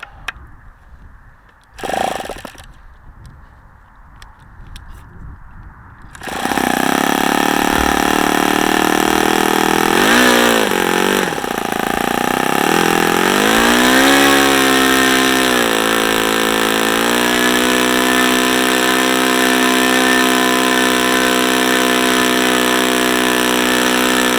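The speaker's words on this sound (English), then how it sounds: "let's just fire it up and see what happens" OS FS-40 Surpass model airplane four-stroke engine on its first run: a starter whirs briefly, then the engine catches and runs loud and close, its pitch wavering and dipping before settling into a steady buzzing drone.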